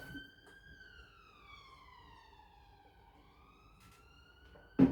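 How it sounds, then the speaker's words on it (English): A wailing siren in London sweeps slowly down and back up in pitch, moderately distant over faint background hum, with a sharp knock at the end. "Unfortunately, there are a lot of sirens that go off."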